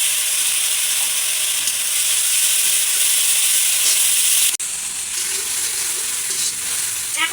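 Ground cumin, ginger and garlic paste fries with onions and chillies for a dried fish curry, making a loud, dense, continuous sizzle with a brief break midway before it carries on.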